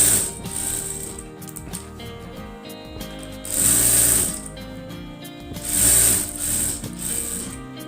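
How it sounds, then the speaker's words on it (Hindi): A sewing machine runs a seam along the folded edge of a baby frock, whirring in steady mechanical bursts that rise loudest twice, with short pauses between runs. "अब एक सिलाई कर देंगे किनारी पे।"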